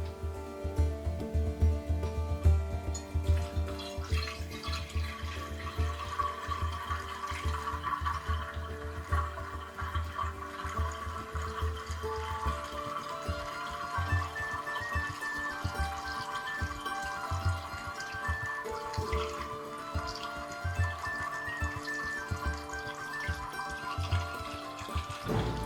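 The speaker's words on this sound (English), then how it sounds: "I'm going to fill this tank full of vinegar." Vinegar pours into the rusted fuel tank of a Coleman lantern, a steady close liquid gurgle and trickle that keeps running as the tank fills.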